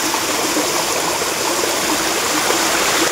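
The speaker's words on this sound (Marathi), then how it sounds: "पर्याचं झुळझुळ पाणी" Stream water murmurs and gurgles steadily, close and loud, a continuous rushing flow on a forest path near a waterfall in Chiplun.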